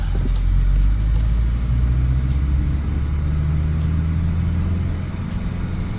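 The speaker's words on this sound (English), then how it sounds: "just to hear that exhaust sound quickly" Volkswagen Golf 8 GTI from 2022 on the road, its exhaust a loud, steady low rumble with a deep engine drone held for the full six seconds, slightly easing toward the end.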